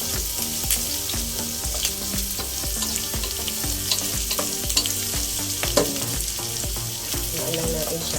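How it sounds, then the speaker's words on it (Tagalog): Onions frying and caramelizing in a pan, with a busy, crackling sizzle and frequent clinks and scrapes of a utensil stirring, steady and close with no talking. "Hintayin lang natin na medyo mag-caramelize yung ating onion bago natin ilalagay yung ating tomato."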